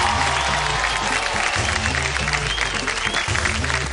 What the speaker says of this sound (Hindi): ये तालियां मेरे जाने की खुशी में है या शाहरुख के यहाँ रहने की?